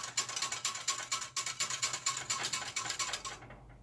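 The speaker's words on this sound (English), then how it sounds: "we are going to whisk our stock." A whisk beats vegan, gluten-free gravy stock in a bowl or pot, a steady fast rhythmic scraping and clicking that runs continuously up close, then stops at the end.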